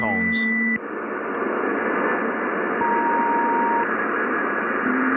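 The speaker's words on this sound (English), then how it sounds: "It's weird that they have those high-pitched tones." A steady hiss of radio static carries faint high-pitched electronic tones that beep and shift briefly, after a short burst of garbled sound at the start.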